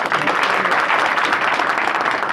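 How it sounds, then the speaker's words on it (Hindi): A crowd at a village panchayat gathering in Dighwara, Chhapra, applauds a soldier home on leave with steady, dense clapping that fills the whole moment, fairly close and loud. "इनके लिए आप लोग ताली बजाइए"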